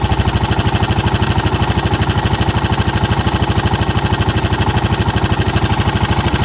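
Suzuki DR650 motorcycle single-cylinder engine idling at around 1500 RPM, a steady, even rapid thumping pulse, close and constant with no talk.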